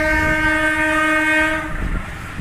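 A loud train horn blares a steady chord for over a second as a train arrives at Tanggulangin station, then cuts off, leaving the rumble and clatter of the train passing close by.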